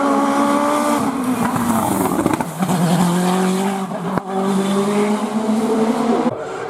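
A race car on a French hill climb course brakes hard from high speed, its engine note dropping through a steady whining drone that holds loud and close over the whole stretch, with a brief dip midway and no talk.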